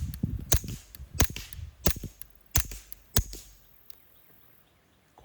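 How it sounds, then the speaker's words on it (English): A .22 pistol, a B&T Print-X, is fired from a position off to the side. Five crisp, snappy shots come in a steady rhythm roughly two-thirds of a second apart, then the clip settles into quiet. "He is shooting the auto match, and then he's gonna shoot the Federal Punch 22."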